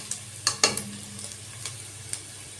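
Onions softening in a frying pan give a faint, low sizzle, broken by a few sharp clicks and scrapes of a spoon stirring them, quiet and close.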